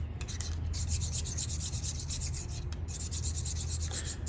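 A meat grinder plate and blades being sharpened, heard as continuous close scraping and rubbing of metal against an abrasive surface, with rhythmic strokes and no speech.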